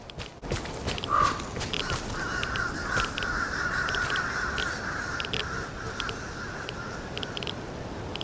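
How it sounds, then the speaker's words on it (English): Crows in the video game Vigor, cawing repeatedly from a short distance in scattered calls over a steady outdoor ambience, with faint footsteps. "Do I hear crows?"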